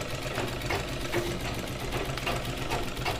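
A sewing machine runs continuously while stitching the bottom hem of a salwar, giving a steady, close mechanical whirr and chatter with no voices over it.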